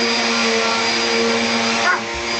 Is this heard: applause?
no